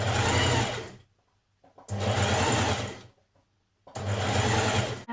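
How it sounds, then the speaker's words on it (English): A sewing machine runs a single hem on a flounce for a Simplicity 8601 top, in three loud, steady bursts of stitching split by short pauses. "So I'm just doing a hem about a centimetre."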